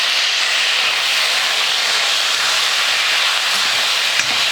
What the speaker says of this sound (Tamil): தக்காளி சேர்த்துக்கிறேன்.